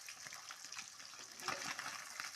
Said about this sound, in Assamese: প্ৰায় ফ্ৰাই হৈ গৈছে মাছখিনি